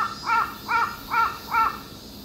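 Crows in Japan, of the kind that perch on power poles around big parks, caw four times in a steady, evenly spaced rhythm, loud and close, with no other sounds.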